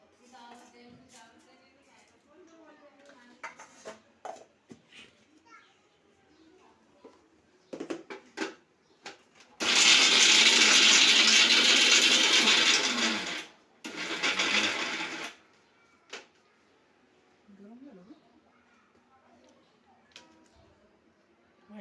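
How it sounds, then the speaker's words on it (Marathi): An electric mixer grinder blends ingredients together for a homemade hair treatment, whirring loudly in one long burst and then a shorter one, with people talking before and after the grinding. "हे सगळं एकत्र वाटून घ्यायचं"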